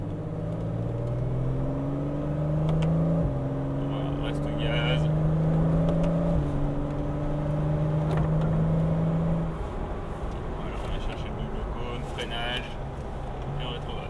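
A car accelerates out of a corner on the Paul Ricard circuit, the engine note climbing steadily through rising gear pulls from inside the cabin, with faint voices underneath.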